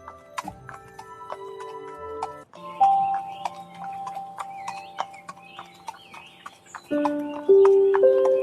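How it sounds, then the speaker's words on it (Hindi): Horse hooves clip-clop in a steady rhythm as a rider sets off on horseback in a Hindi cartoon story, mixed with a neigh and light chiming music, loud and close throughout. "अपने घोड़े पर सवार होकर उस राजकुमारी को ढूंढने के लिए चल देता है।"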